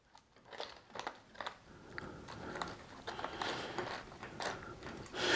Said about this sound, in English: you take these screws and you screw into that bracket